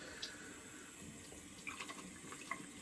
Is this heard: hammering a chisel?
no